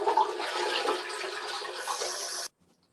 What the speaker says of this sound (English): you're going to give the toilet one more flush to drain all of the water in the tank